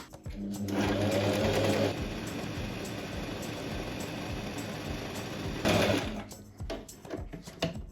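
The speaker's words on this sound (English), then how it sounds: "We're just gonna sew them together 2 centimeters from the folded edge." A sewing machine stitching a dress strap of folded, ironed fabric, a loud close whirring run in two bursts with a steadier, lower hum between them, no voice over it.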